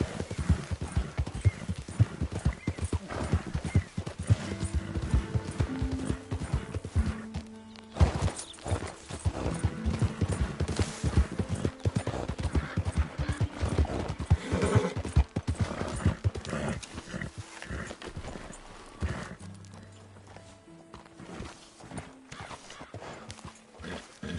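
Horse hooves clip-clopping in a dense, continuous rhythm, with occasional whinnying and neighing over the steady clatter, fairly close.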